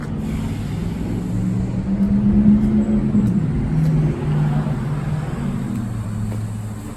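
A pair of matching black 2020 Toyota Supras roll away, their engines giving a low, steady rumble that swells slightly midway and then eases as they move off.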